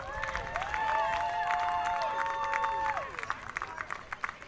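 Outdoor crowd at a Santa Monica minor league baseball championship clapping and cheering for the champion Astros team and their coach, with voices and scattered claps over a sustained burst that thins out at the end.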